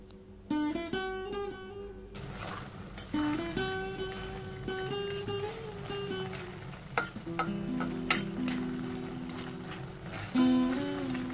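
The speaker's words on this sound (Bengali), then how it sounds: "মাঝে মধ্যে খুন্তি দিয়ে একটু নেড়ে দেব, যাতে কড়াইতে লেগে না যায়" Taro greens cook in a wok with a continuous sizzle, while a spatula scrapes and taps against the metal in repeated stirring strokes.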